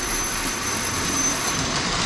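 A Lionel post-war model train engine runs along its track with a smooth, steady, even whir and rumble, close and continuous with no voices.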